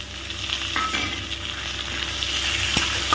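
Chopped onion for soybean tadka frying in a pan, a steady, close hiss and sizzle with a few light clinks of stirring, no voices.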